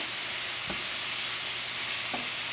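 Vegan fajita vegetables fry in a pan with a steady, quiet sizzle, broken by two soft stirring knocks.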